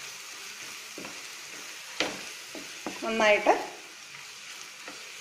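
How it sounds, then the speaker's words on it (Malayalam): Masala sautéing in a hot pan, a steady sizzle broken by a few scraping stir strokes and one louder stirring burst near the middle, with a brief spoken word over it. "ഏകദേശം ഒരു 2 മിനിറ്റോളം ഇത് നന്നായിട്ടൊന്ന് വഴറ്റിയെടുക്കണം"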